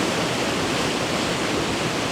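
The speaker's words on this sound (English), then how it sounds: "Some big waves coming in" Big ocean waves roll in on the shore, a dense, steady roar of surf filling the whole moment without a break, loud and close.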